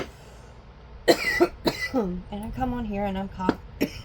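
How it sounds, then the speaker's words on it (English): A woman coughs in two sharp, close bursts, then keeps talking, with a few more brief throat sounds breaking up her speech. "coughing my brains out all of a sudden"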